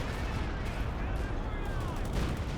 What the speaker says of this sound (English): the 28-centimeter rocket barrage